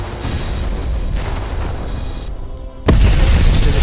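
Ammo bays cook off on a cruiser in Freespace 2 space combat, with rolling, rumbling explosions. A brief lull is followed by a sudden loud boom that keeps roaring.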